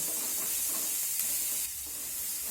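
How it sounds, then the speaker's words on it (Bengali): Onions fry in a pan with a steady, loud sizzle and hiss, stirred now and then, continuous throughout with no talking. "এখন এই পেঁয়াজটাকেও একটু ভেজে নিতে হবে"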